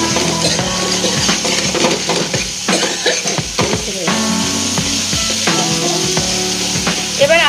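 Masala frying in oil for a Bengali fish curry, a loud continuous sizzle punctuated by frequent spatula scrapes and metallic clinks against the pan, close up.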